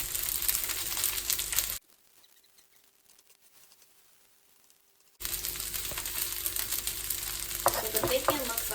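Bacon, vegetables and noodles for okonomiyaki frying on a hot surface, a steady crackling sizzle that cuts out abruptly for a few seconds and then returns, with brief clatter near the end.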